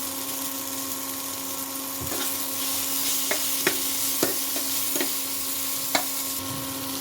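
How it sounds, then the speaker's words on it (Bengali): Spices and cashews frying lightly with a pinch of salt in a pan, a close, even sizzle under a steady humming tone, punctuated by sharp utensil scrapes and taps; no talking. "মশলাগুলো ভাজা হয়ে গেছে, আমি এখন তুলে নেব।"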